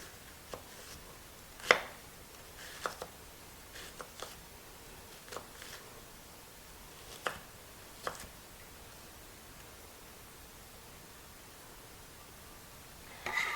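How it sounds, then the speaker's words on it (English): A knife slices through a peeled vegetable on a cutting board, a handful of soft, irregularly spaced taps and thuds separated by quiet pauses, close and faint with no talking. "I'm just going to cut along the lines. Then we'll just turn it around and cut through our slices."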